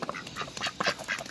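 A duck gives a quick run of several short, nasal quacks close by, brief and moderately loud, with no talking.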